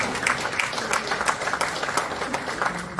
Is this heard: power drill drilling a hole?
no